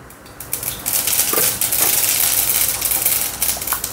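Mustard seeds hit hot oil in a kadhai to start the tempering for a Vidarbha-style brinjal and potato curry: a loud, close, hissing sizzle full of crackling pops, continuous and alone with no talk.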